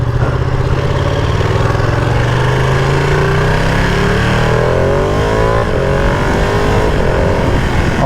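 A 2020 Ducati Panigale V2 motorcycle engine roars loud and close, its pitch climbing steadily as it accelerates through a continuous drone.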